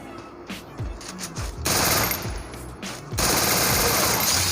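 Rapid automatic gunfire rattles in bursts, quieter at first and then two loud sustained volleys, with a game-like, slightly compressed character and no talking.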